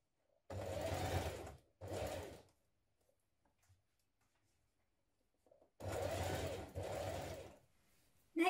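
A sewing machine stitches a dress in quick bursts: two short runs, a long pause with small handling clicks, then two more runs, close and steady with no talking.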